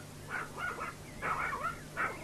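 A dog gives several short barks and yips in quick bursts, close by and fairly quiet, with a low steady hum underneath and no talking.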